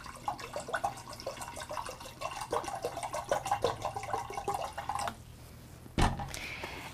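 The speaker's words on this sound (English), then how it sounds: "combine about 2 cups of water into your saucepan." Water runs from a tap into a saucepan in a kitchen, a close, quiet stream of splashing and dripping that flows for about five seconds, then stops, followed by a brief clunk.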